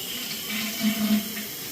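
A toilet runs water after a flush, a steady close rushing and trickling with a low hum as the tank refills.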